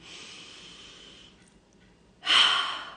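A long, slow inhale through the nose, then a short pause and a louder, forceful breath that swells and fades, close and unaccompanied by talk.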